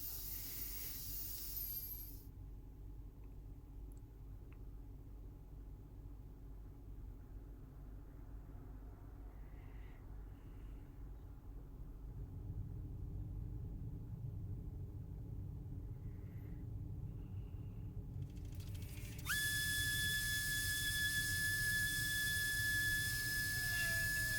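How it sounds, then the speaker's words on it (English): Belt sander running steadily on an oak slab tabletop, grinding down cured epoxy, a continuous rough hiss and motor drone with shifting pitch and load, close and even throughout. "he's using the belt sander to get that tape off there and to just flatten that epoxy"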